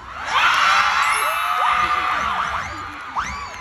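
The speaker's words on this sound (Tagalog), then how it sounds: "Magpalakpakan na may kasamang hiyaw lahat" A crowd at a live show by the cast of a Filipino TV series cheers, whoops and shouts loudly and continuously, with bright overlapping yells rising and falling throughout.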